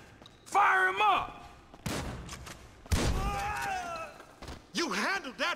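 Several sharp bursts of gunfire crack out in GTA 5, separated by short gaps, mixed with shouting voices between and over the shots.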